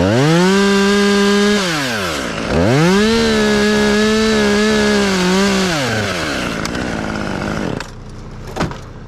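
Chainsaw making a brake cut through wood, the engine revving up and down between cuts, loud and close, with a brief drop to idle near the end.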